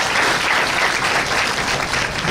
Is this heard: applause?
yes